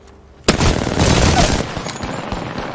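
Rapid bursts of gunfire from the Apex Legends video game break out suddenly after a quiet moment, loud and close, rattling on as sustained automatic fire that lingers for a couple of seconds.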